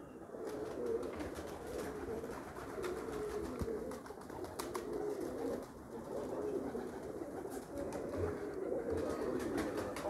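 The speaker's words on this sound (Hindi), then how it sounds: "लाल परी कबूतर बहुत ही लाजवाब कबूतर" Lal Pari pigeons cooing in a steady, continuous chorus of low throaty coos, fairly close, with a few faint chirps mixed in and no talking.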